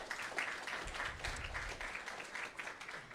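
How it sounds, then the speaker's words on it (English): Applause from the audience at the JunctionX Budapest 2022 hackathon opening ceremony, a steady wash of many hands clapping in a hall, moderately loud and continuous. "So a huge applause to them as well."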